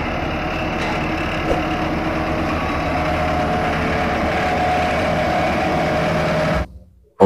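A toy road roller for asphalt gives a continuous, fairly loud mechanical engine rumble that holds steady for several seconds, with no voices, before dropping away abruptly.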